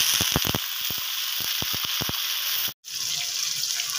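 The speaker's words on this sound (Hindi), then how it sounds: "पानी डाल लूँगी" Water is poured from a cup into a cooking pot of browned mutton trotters with garlic-ginger paste. A steady splashing gush goes on over a frying sizzle, with a short break near the end.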